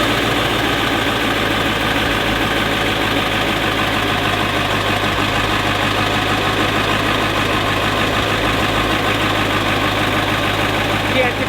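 A car engine runs after a starter repair, a loud, steady, close idle with a rough knocking vibration that holds evenly throughout, with no cranking pauses.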